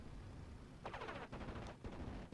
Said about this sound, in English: So that strafing run is just to make him miss more, basically.